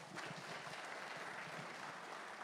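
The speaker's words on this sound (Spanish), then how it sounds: "Un aplauso, hermanos." Church congregation at a Sunday service applauding, a faint, steady patter of many hands clapping throughout.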